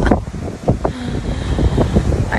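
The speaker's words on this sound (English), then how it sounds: "It's so windy." Strong, loud wind buffets the microphone on a ferry crossing to Ørsta, roaring continuously with gusty surges and rumbling low buffeting, close and unbroken throughout.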